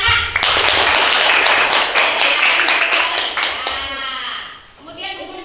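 Children in a classroom clap together in a loud burst of rapid, dense applause that gradually thins out, with voices chattering over the end.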